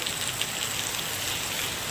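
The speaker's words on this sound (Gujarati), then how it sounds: "જોકે વરસાદ શરૂ છે જો" Rain falling at the Khodiyar temple in Ayavej, a steady close hiss of drops on surfaces with no speech, constant and moderately loud.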